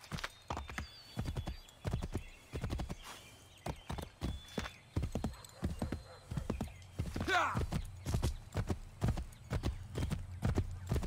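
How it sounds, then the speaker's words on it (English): A horse gallops in Assassin's Creed 3, rhythmic hoof clip-clop in bursts with a brief whinny midway, loud and close, with a voice talking over parts of it. "Come on, horse."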